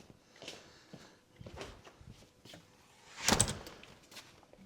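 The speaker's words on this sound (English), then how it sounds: "Let me shut that door." A door is pulled shut at a building site for a wooden playhouse, one soft thud after quiet shuffling and faint movement, fairly close with no talking.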